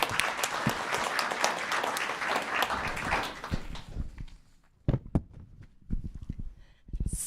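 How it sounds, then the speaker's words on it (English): Audience applause at a town council meeting honoring a young girl's accomplishments, full clapping from the room that tapers off, leaving a few scattered, sharper claps near the end. "Let's have a round of applause for her accomplishments."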